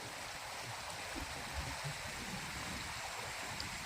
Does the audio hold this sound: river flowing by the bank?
yes